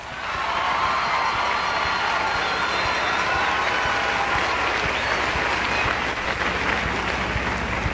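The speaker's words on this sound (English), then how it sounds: "Before we begin, let's give them all a big round of applause" Audience at the 1998 Miss Oklahoma pageant applauding the contestants, a broad, steady wash of clapping that swells in quickly and holds loud and continuous throughout.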